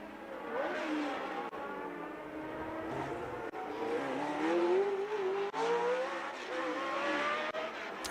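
A 1982 Williams FW07D Formula 1 car with a Cosworth engine races, its high engine note rising and falling through gear shifts over several seconds, sounding loud and fairly close with no talk.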